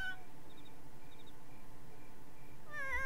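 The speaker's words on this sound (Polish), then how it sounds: "Czekajcie, bo chcę zobaczyć, co za kot jest w ogóle" A stray cat in The Sims 4 gives a couple of faint high meows early on and a louder drawn-out meow near the end, over a steady low game background hum.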